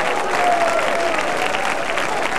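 A church prayer-meeting audience claps hands in a dense, continuous burst of applause, loud and close, with crowd noise mixed in and no clear speech over it.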